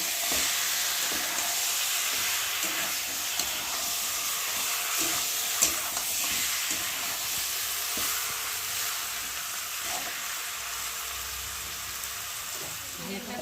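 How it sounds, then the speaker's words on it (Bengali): Chicken fries with masala in a pan, a continuous close hissing sizzle under repeated scraping stir strokes, fairly even in loudness throughout. "আর এখন আমি চিকেনটার মধ্যে ঢেলে দেবো, দিয়ে চিকেনটা ভালো করে মশলার সাথে কষিয়ে নেব।"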